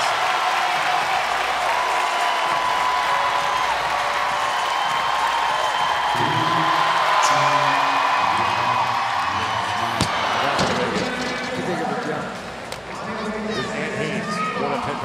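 Crowd noise rises around a weightlifter attempting a heavy Olympic lift at the 2023 CrossFit Games, steady arena din with bursts of cheering and applause running under continuous commentary from announcers.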